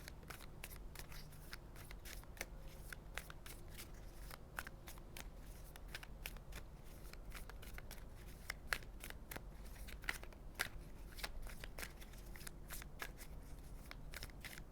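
Tarot cards being shuffled up close, a steady run of soft riffling flicks and crisp snaps that carries on for the whole stretch at a modest level, with no talking.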